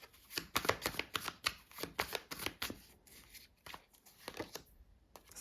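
Tarot cards shuffled, slapped and laid down in a quick run of crisp, close papery snaps and flicks, briefly pausing before a few more cards land.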